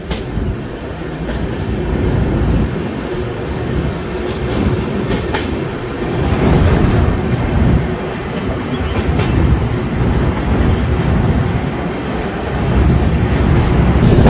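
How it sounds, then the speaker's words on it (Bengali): The Gour Express from Malda to Sealdah rolls into Farakka, heard from inside a general coach as a loud, continuous rumble with rhythmic wheel clatter and steady rail roar. "ট্রেন এই মুহূর্তে ফারাক্কা ঢুকছে"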